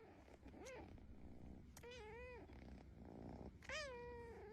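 A happy kitten purrs softly and close, broken by three short, rising meows spaced about a second apart, all faint against quiet room tone.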